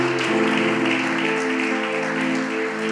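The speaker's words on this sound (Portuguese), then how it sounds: "Aplauda Jesus por isso." A congregation claps in a steady, dense burst of applause during a church service, with a sustained tonal hum underneath.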